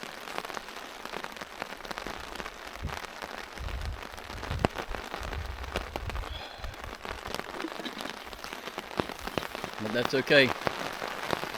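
Rain falling on a Florida campsite during a rainstorm while hammock camping: dense, steady patter of drops with sharper taps on a nearby surface, continuing throughout, with someone speaking briefly over it.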